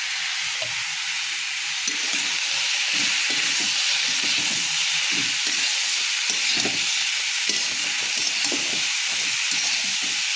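Onions sizzle and fry in oil with turmeric and salt, a steady broadband hiss with soft stirring scrapes and small pops running continuously, close and fairly loud, with no talking.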